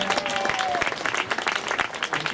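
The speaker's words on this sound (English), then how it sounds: "Tegla's running off. Give her a big cheer." An audience at an outdoor statue unveiling at London University College claps and cheers in dense, close applause with scattered whoops, sustained at a fairly loud level throughout.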